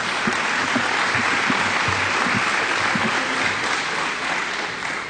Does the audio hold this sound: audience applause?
yes